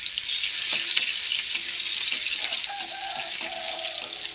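Two dried chillies, nigella seeds, chopped onion and two garlic cloves hit hot mustard oil with a loud, dense, continuous sizzle that stays bright and close throughout, and a few faint clinks sound beneath it.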